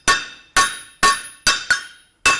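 A heavy 3-pound hammer forging a flare on the horn of an anvil, six bright ringing metallic strikes at a steady, slightly uneven pace, each with a short fading ring, close and loud.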